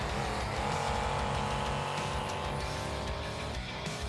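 Monster trucks race around a stadium track in BeamNG.Drive, a steady loud roar of revving engines and churning tires that holds throughout with little break.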